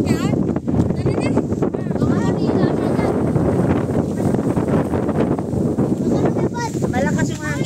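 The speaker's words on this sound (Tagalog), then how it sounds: "Malakas yung hangin." Strong gusting wind buffets the microphone on a high mountain road at KM 90 near Sta. Maria, Laguna, a roaring, continuous rumble throughout with people talking underneath.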